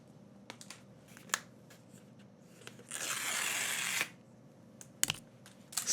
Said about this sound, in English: there's 2 strips on the back, and let's just pull them off.